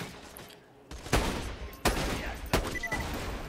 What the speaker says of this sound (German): Wer schießt denn eigentlich noch? Ah, du schießt da auch noch ein bisschen rum.